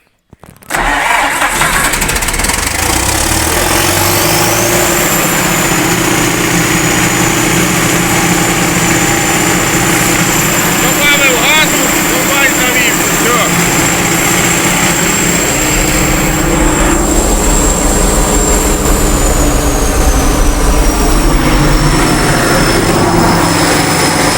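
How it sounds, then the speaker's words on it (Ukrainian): A Niva SMD-23 combine harvester engine, fitted with a starter, cranks briefly and catches, then runs loud and steady close by for over twenty seconds, its pitch climbing slightly as it revs, with no voices. "додав газу, комбайн зразу запустився."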